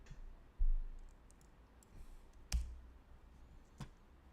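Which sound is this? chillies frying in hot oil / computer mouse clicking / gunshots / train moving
computer mouse clicking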